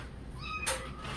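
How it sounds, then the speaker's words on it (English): A house cat gives a short rising meow indoors, fairly close and alone, with faint room noise around it. "Lots of visits from the kitty cat today."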